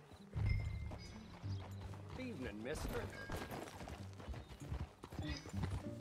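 Horse hooves clip-clop steadily in Red Dead Redemption 2 as a rider travels on horseback, a regular beat running through the whole stretch under game music, with a short spoken greeting.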